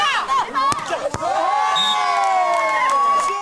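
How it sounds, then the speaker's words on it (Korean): Spectators at a beach volleyball match on a sandy beach erupt in loud cheering and shouts right after a spike, a dense roaring crowd with whoops rising and holding, a couple of sharp hits near the start. "시원하게 내리꽂는 스파이크에 관객들의 함성이 터져나옵니다"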